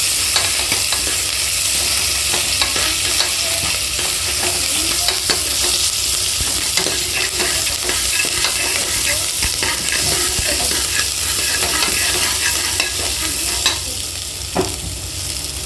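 Curry leaves being stirred in a frying pan for a bottle gourd mash, with a steady loud sizzle and scraping strokes throughout, close by and without talk.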